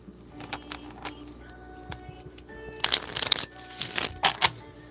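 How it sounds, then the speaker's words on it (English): Tarot cards being shuffled during a reading, light papery ticks at first, then a burst of louder riffling and flapping card shuffles near the end. "Let me shuffle your cards, Lady Bug Moon"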